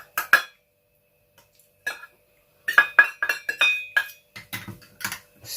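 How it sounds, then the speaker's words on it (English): Vitamin D3 and arbutin powders go into a glass container, giving sharp clinks and taps of glass and utensil in scattered bursts, some quick clustered rattles, with silent gaps between. "now I'm going to add in the active ingredients, which is the vitamin D3 powder"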